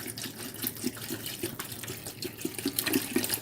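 Water poured from a 1.5 litre plastic bottle into a cooking pot, a steady close gurgling splash that keeps going throughout with slight rises and dips in flow.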